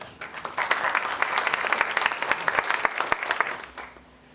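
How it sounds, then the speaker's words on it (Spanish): A room of listeners at an international forum on Latin America applauds to welcome a speaker, a dense, steady burst of clapping that fades out near the end. "Un aplauso, por favor, para recibirlo."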